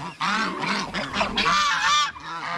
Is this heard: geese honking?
yes